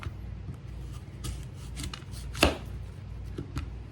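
An apple being chopped into small bite-size pieces on a cutting board, a quick run of soft close knife taps with one sharper louder chop midway, no talking.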